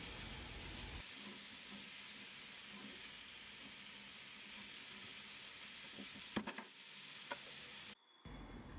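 A zucchini mixture sizzles quietly in a pan while being stirred, a low continuous hiss with faint scraping, a couple of sharper clinks near the end and a brief drop to silence.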